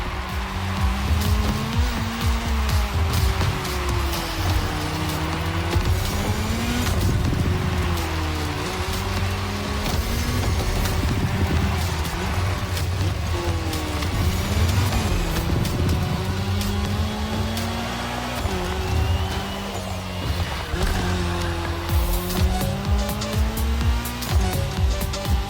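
Race car engines in The Crew Motorfest Red Bull Speed Clash, loud sustained revving that rises and falls through gear changes, with intermittent tire squeal over a constant roar.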